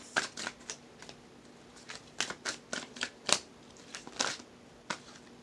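Playing cards being shuffled during a tarot reading, a run of crisp riffling snaps and flutters in short irregular bursts, close and fairly quiet, with no voices.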